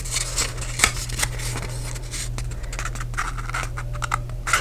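Paper craft folding by hand: soft crinkling, scraping and rustling of cardstock in short irregular bursts, close up over a low steady hum, with no speech.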